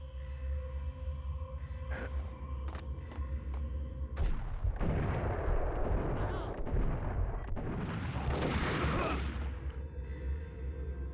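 Desert Eagle gunfire in the Max Payne video game: heavy booming shots crack out and roll into a long, loud burst of blasts and debris.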